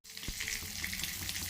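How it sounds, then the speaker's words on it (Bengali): Chopped tomato dropped into hot oil with fried grated ginger in a wok, giving a steady close sizzle and crackle with a brief clatter near the start, no talking. "আদাটা ভাজা হয়ে গেছে, এরপরে এতে টমেটো কুচিটা দিয়ে দিচ্ছি।"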